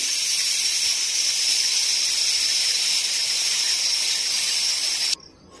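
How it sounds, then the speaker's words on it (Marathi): Steam hisses out loudly and steadily from a pressure cooker boiling sweet corn for several seconds, then cuts off abruptly into quiet. "आता इथे मी वाफ काढून घेते"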